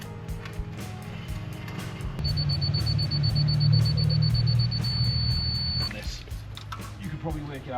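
A laser level receiver used while building a large concrete ramp sounds a steady, solid high-pitched tone lasting several seconds, over a constant low outdoor hum and rumble.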